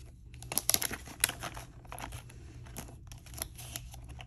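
Paper cash envelopes being shuffled and handled, with soft crinkling, rustling and a few sharper paper snaps in short bursts, close and fairly quiet, with no talking.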